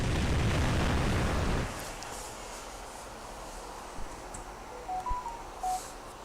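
Bubble Bombardment attack in Ninja Saga opens with a loud, dense burst of popping, rushing effect that cuts off sharply after under two seconds, leaving quiet background with a few faint tonal blips.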